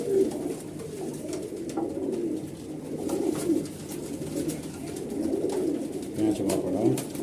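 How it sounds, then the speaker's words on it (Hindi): Punjabi and Madrasi pigeons with pale yellow eyes cooing, soft repeated low coos from several birds, fairly faint and continuous with a few rustles and clicks. "ये कबूतर है पंजाबी कच्ची पीली आँखों में।"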